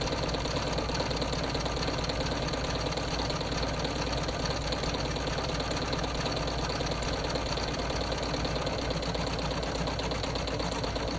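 An embroidery machine stitching a quilted zip-top bag, a continuous rapid mechanical whir and tapping at an even rhythm, moderately quiet and steady throughout with no talk.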